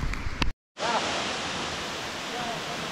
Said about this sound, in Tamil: என் கண்ணுக்கு தெரிகிறது அருவி. கோடி அருவி கொட்டுதே.